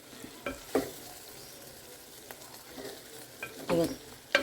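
Tamarind curry with jaggery and tamarind water simmering and being stirred in a pan on a home stove, with soft sizzling and a few brief scraping stirs standing out over a steady low bubbling background.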